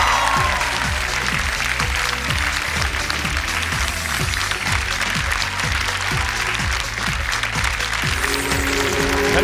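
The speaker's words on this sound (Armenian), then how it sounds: "Ծափահարություններ մեր ժյուրիի բոլոր անդամներին։" An audience at a televised gala show applauds the jury in dense, loud, sustained clapping with a music beat underneath, continuing without pause throughout.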